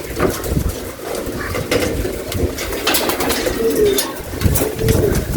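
Pigeons cooing and rustling close by, a steady murmur of many birds in an enclosed space.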